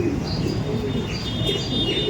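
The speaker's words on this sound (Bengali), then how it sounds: "এটা হচ্ছে নর পায়রা" A male pigeon coos in a loft, soft repeated throaty calls over a constant low background hum, with other birds faintly chirping nearby.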